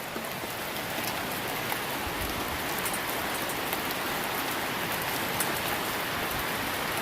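Hail and heavy rain pelting down outdoors at a gold-prospecting dig site in Washington amid gusting wind, a dense, steady hiss of impacts holding constant throughout with no voices.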